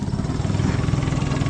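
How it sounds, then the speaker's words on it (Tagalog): A boat or vehicle engine running steadily at close range, a continuous low rumbling drone with a fast regular throb and no pauses. "Takbo na yung makina."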